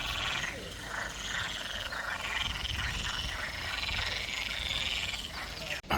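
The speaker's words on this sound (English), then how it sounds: "listen to all the frogs" A dense chorus of frogs croaks continuously around a small thermal pool in a botanical garden in the Azores, loud and steady throughout.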